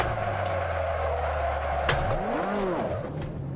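Ferrari 288 GTO in Assetto Corsa droning steadily at speed, then a sharp knock followed by revs swooping up and down with tyres squealing, loud and continuous.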